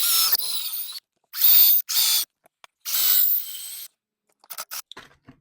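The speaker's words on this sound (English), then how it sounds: "I'm just going to go at them with the standard cordless drill." A standard cordless drill bites into YZ250 clutch parts in short bursts, four loud whining runs separated by pauses, followed by a few faint clicks and taps.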